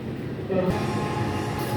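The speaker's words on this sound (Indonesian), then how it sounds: "kereta api Ranggajati akan masuk di jalur 5" The Ranggajati passenger train pulls into Surabaya Gubeng station, a steady low rumble of rolling railcars with a faint squeal, heard close on the platform amid station ambience.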